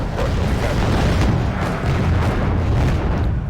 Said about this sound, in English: Yes, it is firing its ASMs.